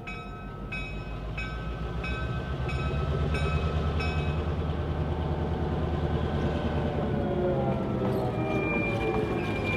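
A train on the Santa Cruz Big Trees and Pacific Railway rumbles steadily along the rails with a continuous low roar and rhythmic wheel noise, fairly close and sustained throughout.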